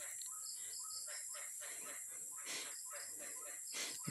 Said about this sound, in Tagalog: Dami kasi rito nga sapa-sapa, kaya iba't ibang klaseng huni ng mga ibon.